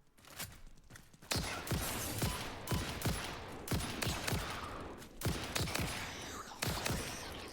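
A gun in the factory-building game Satisfactory fires repeatedly in sharp, loud bursts. Irregular cracks come several to the second, with short pauses between volleys and a noisy, reverberant tail.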